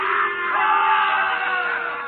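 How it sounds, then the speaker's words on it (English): Courtroom crowd jeering at a man on trial, a dense mass of many voices yelling and booing together, loud and sustained throughout. "The crowd encouraged to jeer at the man of truth."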